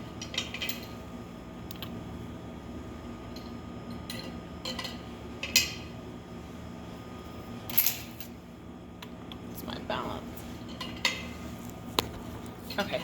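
Blood bank test tubes are gently mixed by hand, giving faint glassy clinks and taps scattered over a steady room hum, close but quiet.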